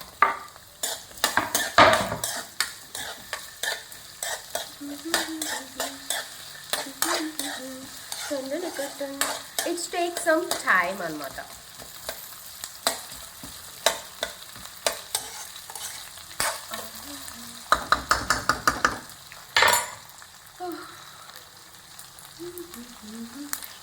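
Onions, green chillies and peanuts frying in a pan with potato added, a crackling sizzle under frequent sharp spoon scrapes and clanks, with brief talk partway through.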